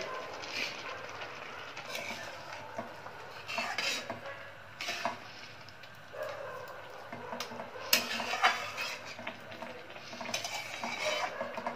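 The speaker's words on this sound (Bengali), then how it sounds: "এবার এটা কিছুক্ষণ সময় ধরে নাড়াচাড়া করতে হবে" A spoon works through carrot halwa with milk and sugar in a pan, giving quiet repeated scraping and clinking strokes over a faint simmer.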